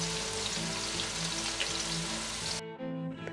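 Constant crackling sizzle of potatoes, peas and minced chicken frying in a pan over a low-medium flame, close and steady before cutting off abruptly near the end, with no speech.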